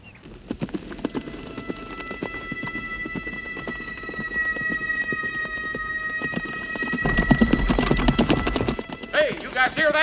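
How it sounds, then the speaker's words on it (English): A horse clip-clops with steady, rhythmic hoof beats in an action movie scene. The hooves grow louder as it nears, a whinny comes near the end, and people talk over part of it. "Hey, you guys hear that? Is that a horse?"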